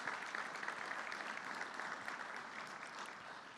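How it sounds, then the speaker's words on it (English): An audience claps for event sponsors at a campaign report gathering, a dense, even wash of applause that stays fairly faint and distant, with no pauses. "Give them a round of applause."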